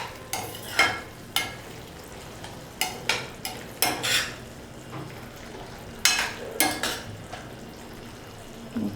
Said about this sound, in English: Give it a nice good mix.